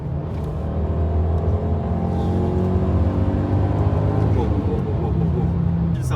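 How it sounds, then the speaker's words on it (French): A Volvo C30 T5 with its five-cylinder engine revs under acceleration from inside the car, a steady, rising droning rumble filling the cabin as a person talks over it. "le bruit, la mélodie du 5 cylindres"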